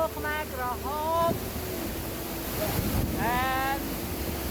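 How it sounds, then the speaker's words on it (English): Waterfall at Phnom Khnang Kropeu, a steady broadband roar of rushing water close to the microphone with wind buffeting, while a voice talks over it. "and the water so amazing. The waterfall here."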